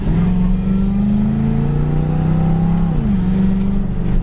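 An original 1978 Pontiac Trans Am drives past close and loud, its engine droning and revving with a pitch rise and a drop near the end, alone without talk.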